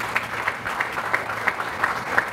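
A crowd at a manufacturing plant groundbreaking ceremony claps for an accident-free safety record. The applause is fairly loud and close, with sharper individual claps recurring through the short burst.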